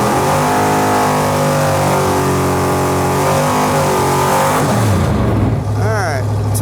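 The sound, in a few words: race car engine revving at full throttle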